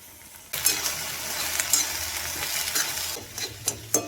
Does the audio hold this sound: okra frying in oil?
yes